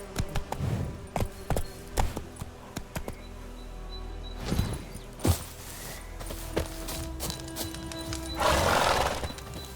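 Roach, the horse in The Witcher 3, clip-clops at a steady walking rhythm with sharp close hoof strikes, then gives a loud drawn-out neigh near the end.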